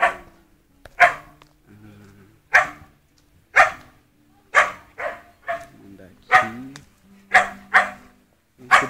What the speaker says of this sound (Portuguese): Aqui do lado tem uma residência com um cachorro insuportável latindo.